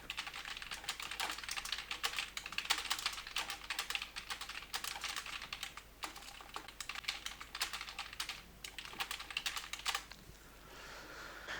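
Hindi being typed on a computer keyboard with the InScript layout: rapid, continuous clicking of keys close by, with a steady even rhythm that slows and thins out near the end, no voices.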